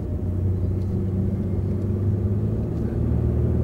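An old, high-mileage Chevy drives up a hill, its engine giving a steady, loud low rumble heard from inside the car with no talking.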